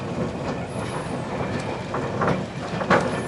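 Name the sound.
train on the Dartmoor Railway at Meldon Viaduct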